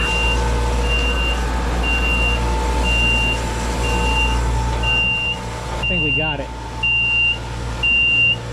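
An electronic alarm on a domestic water booster pump system beeps in a steady, evenly spaced pattern over machinery hum, with someone briefly speaking midway.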